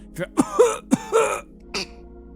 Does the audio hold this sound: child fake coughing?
yes